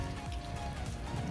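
Rain falling steadily at Atal Sarovar lake in Rajkot, a dense, even wash of drops pattering on surfaces nearby, with no pauses and no voices.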